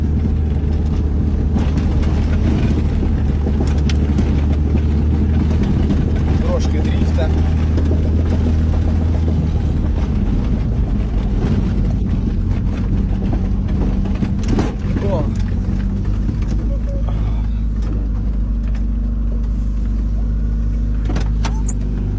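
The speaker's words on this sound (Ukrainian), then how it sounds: "Таврія наша поїхала" A ZAZ Tavria car drives across farm fields, its engine a steady, loud low rumble with rattles and bumps throughout, close and continuous, while a voice talks over it.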